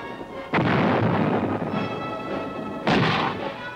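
Artillery pounds a hill during a Vietnam War assault, two heavy, close booms about two seconds apart, each followed by a long rolling rumble.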